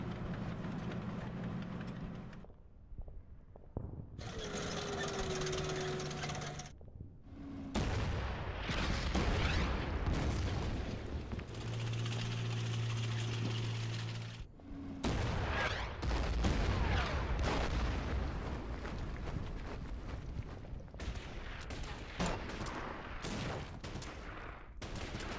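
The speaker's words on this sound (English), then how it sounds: "our men are under a heavy, heavy fire." Heavy artillery and dense gunfire from the war strategy game Order of Battle: Burma Road roar almost without pause, with loud booming blasts and rattling volleys layered over a constant rumble for the whole stretch.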